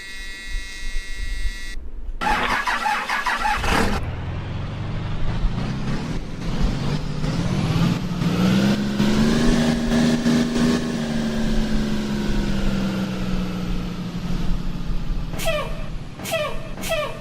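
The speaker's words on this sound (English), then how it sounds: "Alright, so let's go ahead and start up the bus." A bus engine in the Rigs of Rods driving game cranks and starts, its low hum rising and settling into a steady idle, with brief sharp hisses of air brakes near the end.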